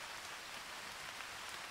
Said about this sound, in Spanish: y ahora se nos pone a llover